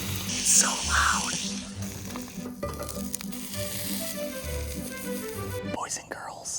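Steak sizzles and crackles steadily on a hot pan over a portable stove, with occasional soft clinks and a faint whisper near the end.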